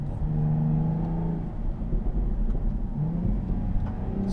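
Jaguar F-Type V6S coupe driving along a technical road, its engine rumbling steadily with a low drone that swells and eases slightly as the car pulls, heard from inside with no talking.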